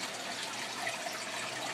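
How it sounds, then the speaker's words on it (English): Tap water rushes steadily through a hose into an aquarium during a water change, a continuous close hiss and splash with no variation or voices. "You can see the water rushing out through the hose here now."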